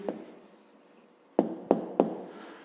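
A pen scratches out an answer by hand in a school notebook, producing brief rubbing strokes followed by three distinct quick taps, close and quiet, with no voices.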